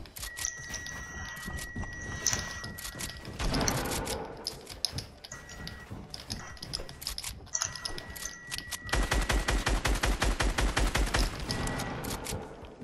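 Rapid gunfire in the video game Fortnite, with bursts of automatic shots and rattling volleys, including a dense, loud string of rounds toward the end, with no voices over it.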